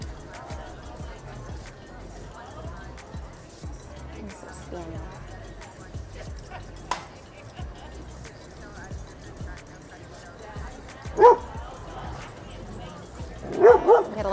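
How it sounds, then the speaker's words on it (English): A husky at a dog park gives a few sharp barks and yips toward the end, with dog-park ambience and a person talking throughout. "the husky in particular is letting everybody know about it"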